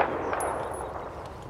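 A brief, sharp burst of gunfire in the Battlefield video game cracks out at the start and decays quickly into a low, faint rumble.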